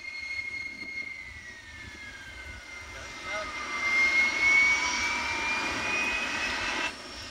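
A fighter jet's engine whines and roars during pilot training on a runway, a rising, sustained jet sound swelling then fading, with faint background talk.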